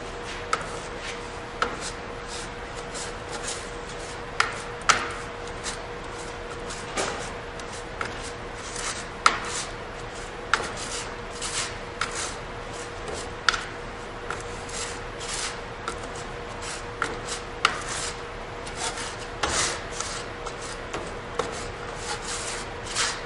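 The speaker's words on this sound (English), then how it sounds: "Once the pattern's covered, we can just use coarse sand in that case. So mixing the sand in." Coarse sand is mixed in over a pattern for sand casting, a faint continuous rubbing and shuffling broken by scattered light ticks and scrapes at an uneven pace.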